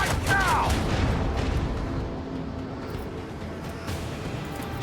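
Macro cannons firing during a space battle in the video game Rogue Trader, booming blasts with a rumbling tail that fade to a lower background, with a voice speaking briefly.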